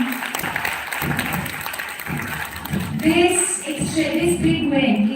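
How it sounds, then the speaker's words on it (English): Audience clapping at a business event gathering in Kuala Lumpur, a moderate patter of hands mixed under a voice, with music rising toward the end. "Can we have a big round of applause for him?"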